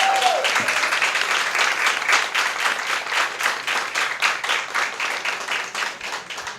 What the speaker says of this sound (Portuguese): Podemos dar uma salva de palmas para elas?